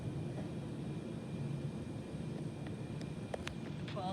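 A DC-10 air tanker flies over a wildfire near Azusa, California, its broad engine roar steady and fairly distant beneath wind noise, with a few faint higher clicks and chirps near the end.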